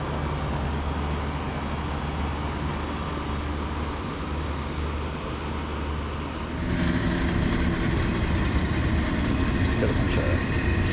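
A 1996 Carrier 38CKB air conditioner running outdoors, blowing hot air: a constant broad whooshing hum with a low drone, growing slightly louder partway through, as someone talks over it.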